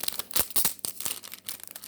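Scissors cutting open a foil hockey card pack: a quick series of close crinkly snips and tearing rustles with an uneven rhythm, fairly quiet and without talk.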